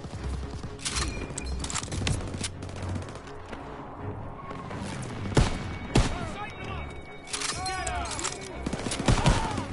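Rapid gunfire bursts from World War II weapons in the shooter game Call of Duty WWII crackle through a busy battle mix, with repeated volleys, a horse neighing at points and a voice talking over it.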